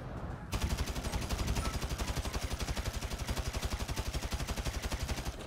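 Rapid automatic gunfire from a gun in GTA V, a long, loud, evenly spaced burst of shots that starts abruptly and keeps the same fast rhythm to the end.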